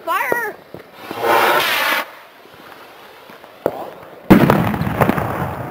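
Fireworks being set off outdoors, with a whistling launch, a hissing fizz of sparks, then a sharp loud pop followed by crackling bursts, near and loud.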